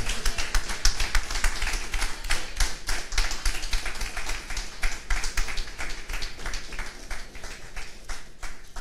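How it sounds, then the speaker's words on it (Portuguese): A church congregation applauds after a sermon reading, dense steady clapping from many hands filling the room, loud and continuous throughout with no voices over it. "Quer aplaudir a palavra de Deus?"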